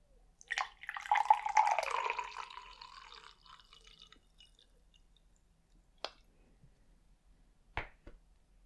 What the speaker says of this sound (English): we're just gonna pour you a little glass